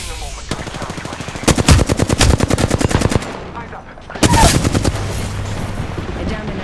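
Rapid automatic gunfire in Apex Legends during a fight on Broken Moon, a steady rattling burst of evenly spaced shots followed by a second loud volley after a brief pause, close and dominant.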